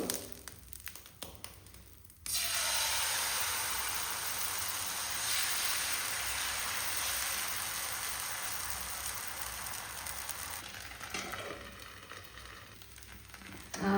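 Dosa batter hits a hot tawa with a sudden loud hiss, then sizzles evenly for several seconds before gradually quieting, close up and with no voices.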